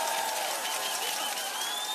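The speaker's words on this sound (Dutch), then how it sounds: "geef ze een bijzonder applaus" Audience applause at the 2018 carnival song contest finale in Gulpen, a steady, dense wash of clapping from a large crowd that holds at an even level throughout.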